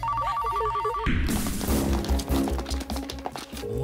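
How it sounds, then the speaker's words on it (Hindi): A telephone rings in a tense dramatic scene, its electronic bell trilling close and loud for about a second before a sudden burst of loud, busy action sounds takes over. "फोन उठा, फोन"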